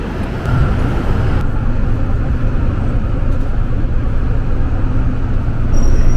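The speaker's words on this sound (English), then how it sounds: "we're on the number 58 tram travelling along William Street" Continuous loud rumble of a number 58 tram rolling along William Street in Melbourne, a steady mechanical drone with faint rattles and no talking.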